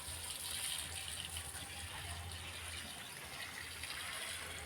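Water poured onto dry vegetable garden plants such as aubergine and bitter gourd vines, a steady continuous gushing splash with a low hum beneath, close and unbroken throughout.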